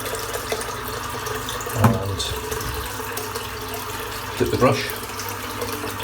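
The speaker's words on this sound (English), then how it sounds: "I'll start filling the sink up." A bathroom sink fills from the running tap as a steady rush of water under talk, with a couple of louder splashes from a shaving brush being dipped.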